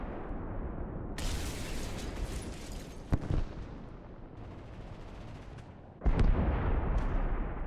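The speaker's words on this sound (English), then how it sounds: "we'll get suicide bombed by an Arado 234" Bombs dropped by an Arado 234 jet bomber blow up in War Thunder, a sustained roaring rumble with one sharp close blast near the middle and a second heavy explosion near the end, loud and dense with no talk.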